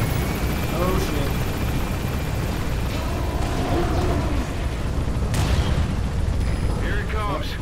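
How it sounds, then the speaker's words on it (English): In Metal Gear Solid V, a dense wall of combat noise has a helicopter's steady roar mixed with rapid minigun fire and booming explosions throughout, and a voice briefly breaks through. "Use the chopper's minigun."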